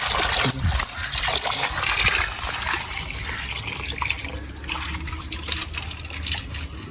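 Tap water runs steadily over broken crab pieces being rinsed in a home kitchen, a continuous splashing trickle close by with no talk.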